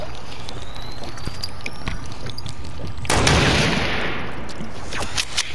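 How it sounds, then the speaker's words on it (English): A single gunshot from a video game played on a PS4 with keyboard and mouse, a sharp loud blast with a lingering roar over steady game ambience. "how did that shot not hit?"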